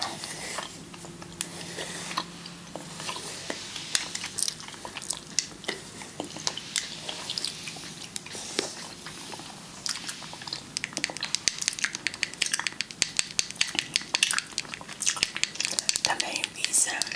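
Soft, close-miked gum chewing in an ASMR session, wet clicks and smacks scattered irregularly at low volume, growing busier and denser toward the end, with faint background hiss.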